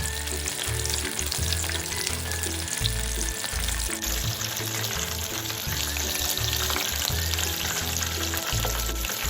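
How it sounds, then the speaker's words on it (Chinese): Beancurd sheet rolls deep-fry in hot oil over medium heat, giving a dense, continuous crackling sizzle that holds steady and close throughout, with no talk. "油热后，再将腐竹卷放入中火油炸，初下锅，不要翻动"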